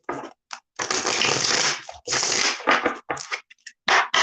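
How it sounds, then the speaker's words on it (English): Tarot cards are shuffled by hand in several bursts of crisp, papery riffling and flicking, close and dry, separated by brief pauses. "One more shuffle."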